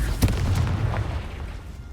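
A Confringo explosion spell goes off in Hogwarts Legacy, a single short booming burst near the start that rolls into a low rumble and fades.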